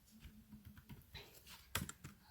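Quiet, irregular keystrokes tap on a computer keyboard while entering commands in Maple, soft clicks at an uneven pace ending with a sharper cluster of presses.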